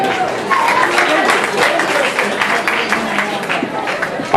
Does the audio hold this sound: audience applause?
yes